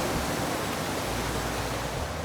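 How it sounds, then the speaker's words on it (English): Water rushes through a flume toward the settling basins at a Delaware water treatment plant, a dense, steady broadband roar like a close waterfall, loud and unbroken with no voices. "the water is moved to the settling basins through a flume way"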